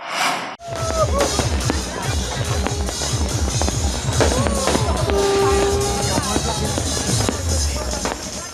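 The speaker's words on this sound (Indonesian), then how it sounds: "Ribuan pengunjung menikmati atraksi pesta kembang api yang menyambut detik-detik pergantian tahun" New Year's Eve fireworks over Kuta Beach, Bali, crackling and banging densely and loudly throughout, with rapid firecracker-like pops and a busy crowd murmur underneath.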